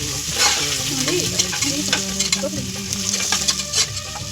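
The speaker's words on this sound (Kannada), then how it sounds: "ಆನಿಯನ್ ಇದು ಗೋಲ್ಡನ್ ಕಲರ್ ಬರೋ ಗಂಟ ಫ್ರೈ ಮಾಡಬೇಕು" Chopped onions sizzle and fry in hot oil until light golden, a steady close crackle with repeated stirring and occasional scrapes of a spoon against the pan, heard alone for a few seconds.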